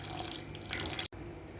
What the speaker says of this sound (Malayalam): ഇതിലേക്ക് കുറച്ച് വെള്ളം ഒഴിക്കുക.